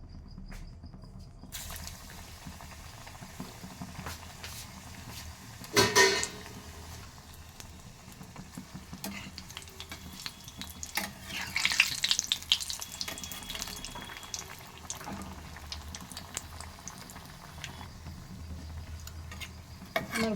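Vegetable chops coated in biscuit crumbs sizzle steadily in hot oil, a continuous close hiss with a couple of louder bursts of spitting partway through.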